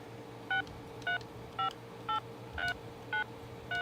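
Seven evenly spaced touch-tone DTMF beeps come from a small speaker over a low hum, each short and fairly faint, like a number being keyed in.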